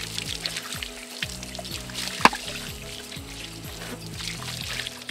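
Water pours and trickles steadily down a horse's legs during a wash, a close, continuous splashing with one sharp knock partway through and no talking.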